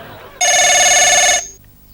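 One loud, bright burst of an electronic telephone ring sounds for about a second, then stops abruptly, leaving quiet room tone.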